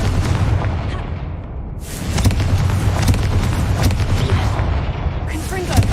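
In the video game Hogwarts Legacy, a Confringo blasting spell erupts in loud, booming explosive bursts over a rumbling low roar, with crackling debris and a sharp blast near the end.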